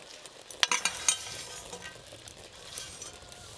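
Pulao stirred in a pot after fried cashews and raisins are added, several sharp spoon clacks near the start, then a soft steady sizzle with lighter scraping, no voices.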